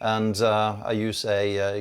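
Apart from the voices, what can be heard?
No everyday noise stands out behind the speech.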